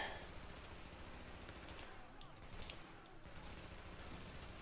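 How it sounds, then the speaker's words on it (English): Gunfire in The Division video game comes as quiet, continuous bursts of shooting, faint and steady throughout with no clear gaps. "Shooting a little more."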